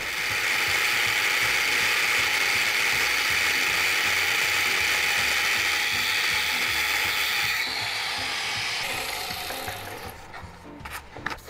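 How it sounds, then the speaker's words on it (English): A grinder cuts a slot into sheet metal, giving a loud, continuous harsh whine and rasp close up that holds steady for several seconds, then tapers off as the cut finishes with a few clattering knocks. "So I'm just gonna do that with a grinder."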